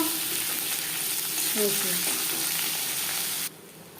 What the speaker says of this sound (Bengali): মাছ ভেজে নেওয়া কড়াইতে আবারও তেল দিয়েছি দিয়ে দিলাম পেঁয়াজ কুচি